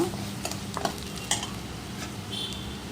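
Chilli powder spice mix fries in a pan with a low, steady sizzle, punctuated by a few sharp spoon taps and scrapes against the metal.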